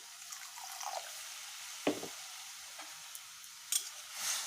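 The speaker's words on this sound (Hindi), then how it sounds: "देखिए अब मैं इसमें पानी डाल दी हूँ। मसाला मेरा फ्राई हो गया है।" Water poured into fried masala for malai kofta gravy sets off a faint, steady sizzle in the pan, broken by a few sharp splashes and drips.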